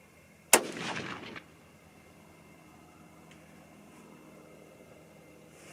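A single sharp, loud report from a .243 Winchester rifle firing an ELD-X load, followed by a roughly one-second decaying echo, then a long stretch of quiet outdoor ambience.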